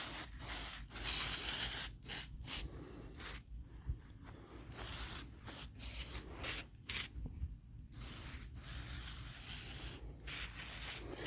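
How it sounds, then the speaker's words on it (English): A hand pump sprayer spraying weeds and grass hisses in repeated short bursts close by, with brief pauses between sprays and a soft rubbing background. "I got to spray the grass a lot in here."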